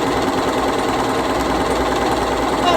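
A Bernina Series 3 sewing machine runs a continuous patterned stitch across fabric, a steady close-up mechanical whir with a fast, even rattle of the needle that holds constant for the whole stretch.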